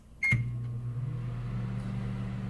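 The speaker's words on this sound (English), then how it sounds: "We're going to put it in the microwave." Microwave oven cooking a chocolate chip cookie: a single short beep, then a steady close, loud low hum as the oven runs continuously.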